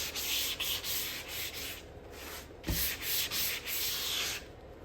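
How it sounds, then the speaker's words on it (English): Hand sanding along the edges of a round wood sign, repeated rasping strokes at close range with a steady back-and-forth rhythm and brief pauses between passes. "And then just sand."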